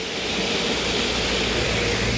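Water falls from above in foggy Chikkamagaluru hills. It makes a loud, constant broadband roar and rush with no pauses.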